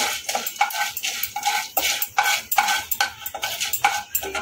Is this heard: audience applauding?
no